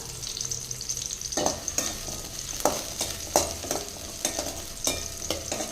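Shallots, garlic and ginger frying in a pan for a drumstick masala kara kuzhambu, a continuous sizzle broken by repeated sharp scraping strokes of a spoon stirring at an irregular rhythm, close and with no talk.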